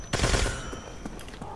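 A modded weapon in Black Ops Zombies fires a short, loud rapid burst of gunshots, sharp cracks tailing off with echo, with no voices.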